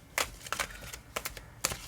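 Tarot cards being shuffled by hand: a few quick, crisp riffling bursts and slaps close up, separated by short quiet gaps, soft overall with no voices.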